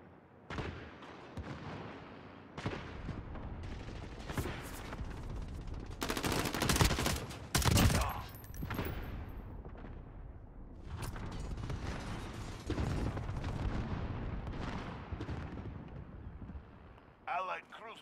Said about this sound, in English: Cluster strike inbound.